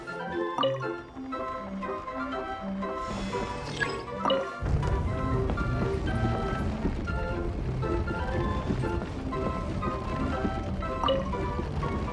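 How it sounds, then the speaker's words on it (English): A water droplet drips in Genshin Impact, with a few soft splashy plinks and a small crash early on, then game music playing steadily underneath. "There's a water droplet over there!"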